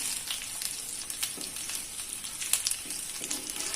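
Masala-coated fish fries in a little oil on a low flame, giving a gentle, steady sizzle sprinkled with small crackles and pops, fairly quiet and close.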